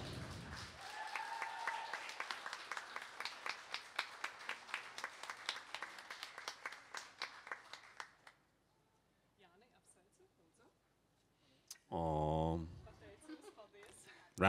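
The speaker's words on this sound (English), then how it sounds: "Round of applause." Applause fills a graduation ceremony, many hands clapping for about eight seconds before fading out, followed by a short pause and a brief burst of speech.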